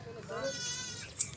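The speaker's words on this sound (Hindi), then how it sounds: "3 बकरियाँ तीनों दूध वाली बकरी हैं।" A milk goat bleats at a livestock market, a wavering nasal cry near the start amid crowd noise and someone talking nearby, with a couple of sharp clicks toward the end.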